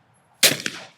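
A single loud shotgun blast at a clay target in DTL trap shooting, sharp and close, with a short fading tail.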